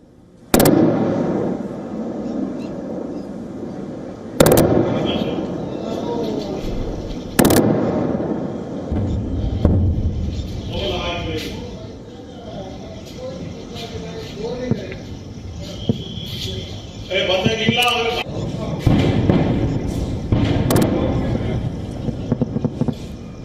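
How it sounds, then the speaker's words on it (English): Loud bangs and explosions in Jammu ring out intermittently, several sharp booming cracks spaced seconds apart over a constant rumbling background, with voices talking between the blasts. "These are the continuous sounds and the loud bangs that are being heard."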